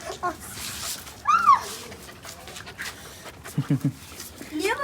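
A four-month-old puppy plays energetically, panting in quick bursts and letting out high whimpers and yips close by, while a person talks and laughs over it.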